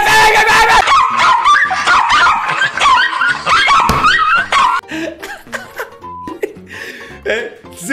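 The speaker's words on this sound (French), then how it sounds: "j'aurais coupé le son du chien" Dog barks and yips mixed into a meme montage, packed together in the first five seconds among music, laughter and voices, then thinning into sparser, choppier sounds.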